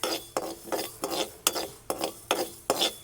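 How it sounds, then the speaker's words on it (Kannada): Fenugreek seeds dry roasting in a pan on medium flame, stirred in a quick regular rhythm of about seven scraping, rattling strokes, close and crisp. "ಈ ಮೆಂತೆಯನ್ನು ಹಾಗೆ ಡ್ರೈ ಆಗಿ ನಾವು ಹುರಿದುಕೊಳ್ಬೇಕು"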